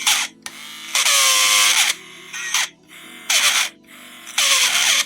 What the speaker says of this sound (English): We did use these drills for dentists.